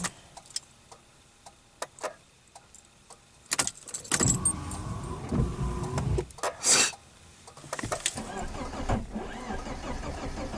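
A BMW E36's starter motor cranks loudly and close, a rough grinding whir for a few seconds before it abruptly cuts out, set among scattered clicks and small mechanical noises from inside the car.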